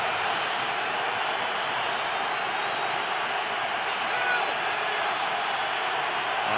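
A stadium crowd roars at an NFL game between the Patriots and the Jets in 2012. The roar is a dense, steady wash of voices that holds at the same level without a break.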